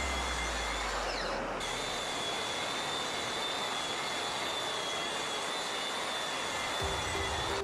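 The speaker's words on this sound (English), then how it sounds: "I then used the table saw to trim up the top" A table saw runs with a loud, steady whine as it trims a plywood tabletop to size. The cut stays continuous throughout, and the blade's tone shifts slightly near the end.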